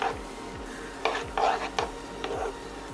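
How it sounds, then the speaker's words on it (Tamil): A spoon scrapes and clinks against a pan while Ashoka halwa with cardamom and cashews is stirred, giving a few short rhythmic strokes over a low steady background hum. "இதை நல்லா இப்போ மிக்ஸ் பண்ணிடுங்க."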